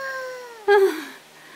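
A cat gives a single loud, close meow that rises and then slides down, rising sharply out of a quiet room and fading within about a second.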